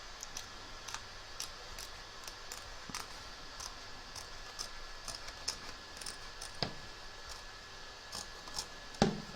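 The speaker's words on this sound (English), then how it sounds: "turn your hoop over and trim around the edge of the stitch line" Scissors snip around the edge of an embroidery stitch line on a machine-embroidered appliqué letter, trimming excess fabric; soft, close, irregular clicks repeat alone in a quiet room, with a sharper cut near the end.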